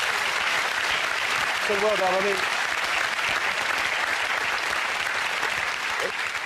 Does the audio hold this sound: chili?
no